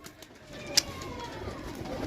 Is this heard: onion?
no